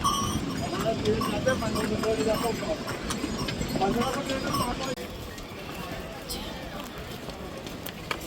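Steady clip-clop of many horses' hooves on the Yamunotri trek trail in India, a continuous busy patter close by, with bells jingling and voices mixed in.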